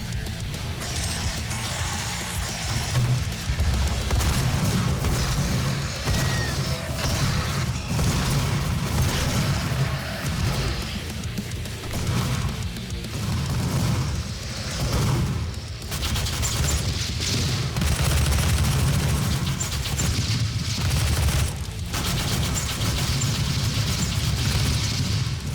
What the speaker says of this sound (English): all of those explosions sound like they were happening like behind some drywall